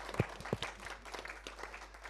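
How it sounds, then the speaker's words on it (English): A small audience at a Davos event applauding briefly, a few sharp nearby claps over a thin scattered patter against a low steady hum. "round of applause for Stan for being such a generous guy"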